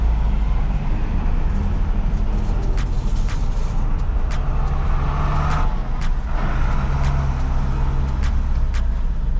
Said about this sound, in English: there we have trucks turning.